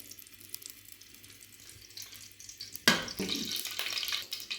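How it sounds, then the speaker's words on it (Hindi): Garlic hits softened ghee for a village-style sarson saag, setting off a sudden loud sizzle that bursts out after a quiet stretch and keeps crackling steadily close by. "अब हम घी को नरम होने देंगे, इसके अंदर अब हम डालेंगे लहसुन"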